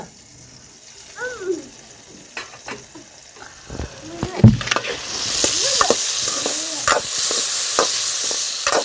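Tomato chutney stirred in a frying pan, with scattered spatula clicks and scrapes over a sizzle that grows louder and denser in the second half, and brief snatches of voice early on.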